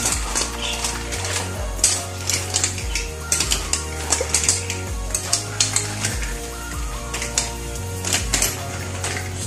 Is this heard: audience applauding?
no